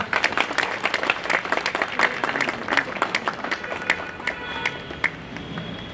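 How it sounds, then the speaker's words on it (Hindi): Applause in a hall at a Bar Council of Delhi enrolment meeting, a moderate patter of clapping hands with faint voices underneath. "तालियां बजा के स्वागत कीजिए"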